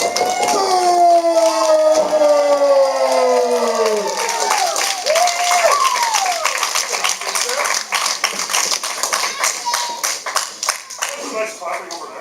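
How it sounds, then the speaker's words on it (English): A wrestling crowd cheers and yells as a wrestler is introduced at an ECCW event, then breaks into rapid rhythmic clapping that builds and continues steadily, with a voice talking loudly over the top. "Nice clapping over there."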